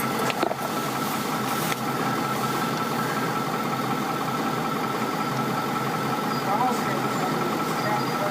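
A vehicle's engine idles steadily as it is unloaded off a trailer on a Death Valley trip, a constant mid-pitched hum and rumble filling the whole stretch with a few faint knocks early on.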